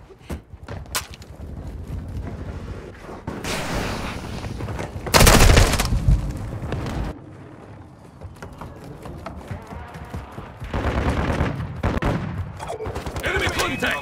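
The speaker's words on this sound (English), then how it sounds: "Airstrike in the AO." Call of Duty Modern Warfare 2 multiplayer combat: loud bursts of automatic gunfire and rapid fusillades, with a heavy airstrike blast around the middle and continued shooting afterward, with a voice calling out briefly.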